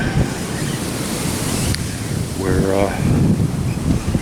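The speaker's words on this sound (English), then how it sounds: "the wind isn't really going to let up that much" A strong, cold wind blows outdoors during a Kansas deer hunt, buffeting the microphone with a loud, continuous rushing roar; a voice briefly speaks in the middle.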